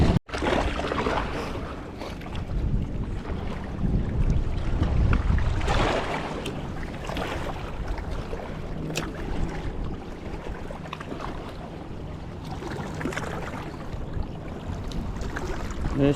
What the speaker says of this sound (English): This wind is something.